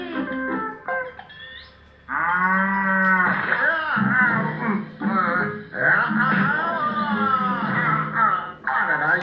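A cow moos in a Tamil animated comedy episode, with long wavering calls that rise and fall, loud and close, woven between stretches of voices talking.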